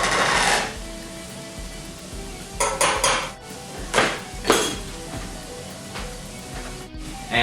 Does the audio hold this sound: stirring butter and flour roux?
yes